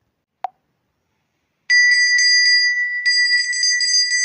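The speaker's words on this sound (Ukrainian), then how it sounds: "Дзвіночок." A small bell rings with bright sustained metallic tones that sound close and clear, preceded by a single brief soft tap and then silence.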